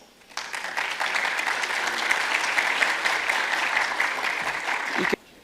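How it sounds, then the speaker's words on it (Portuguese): Audience applause at a conference panel on certification as speakers are called to their seats; steady, dense clapping starts after a brief pause, holds evenly for about five seconds, then stops abruptly. "Reinaldo Morelli, por favor, palmas."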